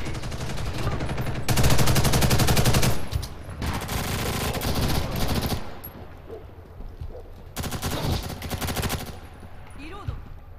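Bursts of automatic gunfire rattle in loud, sustained volleys in the online shooter Ghost in the Shell S.A.C Online, separated by quieter stretches of game noise with scattered voices.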